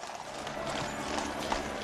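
Household Cavalry horses on parade at the State Opening of Parliament, escorting the Queen from Buckingham Palace, with steady hoof clip-clops on hard ground amid a busy outdoor ceremonial background.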